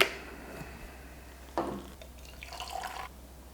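Water splashes over Tian Jian dark tea leaves from Yunnan for a quick rinse: a few short, quiet pouring and trickling bursts against a hushed background.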